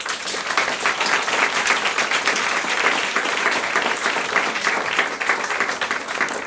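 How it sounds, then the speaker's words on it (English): Sustained applause from a sizeable audience, dense steady clapping filling the room without a break. "Give them a round of applause."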